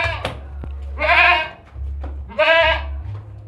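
A goat at a livestock market bleats twice, each call a loud, wavering cry about half a second long, close by over a low constant rumble.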